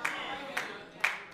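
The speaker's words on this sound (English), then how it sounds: "I heard one clap, amen." Audience clapping during a live church sermon, three sparse, separate hand claps, fairly faint and spaced roughly half a second apart.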